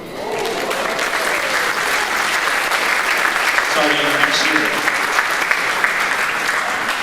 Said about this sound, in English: So I want another round of applause for Mr. Lopez.